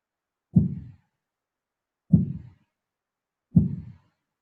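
Recorded heartbeat stimulus: three isolated, low, soft thumps spaced about one and a half seconds apart against complete silence.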